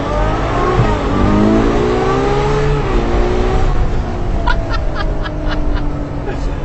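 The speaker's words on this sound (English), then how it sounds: "I'm just convinced that naturally aspirated V12s are basically the best engines in the world." Ferrari 812 Superfast with a naturally aspirated V12 revving hard, a loud, close, rising engine howl through the gears that eases off, then rasps and crackles on the overrun.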